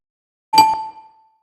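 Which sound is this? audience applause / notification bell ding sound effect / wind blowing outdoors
notification bell ding sound effect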